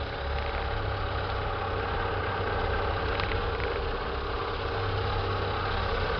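An Opel car engine with its original General Motors battery idles steadily, a constant low hum and vibration close by with no voices.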